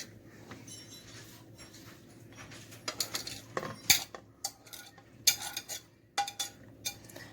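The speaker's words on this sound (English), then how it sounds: "start stirring things up a little bit" Chicken pasta salad being stirred in a bowl, a close run of clinking and scraping utensil strokes that starts faint and grows louder and busier, with irregular bursts of clatter and no talking.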